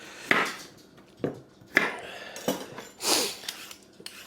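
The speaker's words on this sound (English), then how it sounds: "So first thing we do is cut up a few carrots." Knife chopping carrots on a wooden cutting board in a cabin kitchen, several sharp, separate thuds spaced about half a second apart, close and crisp, with light scraping between strokes and no talking.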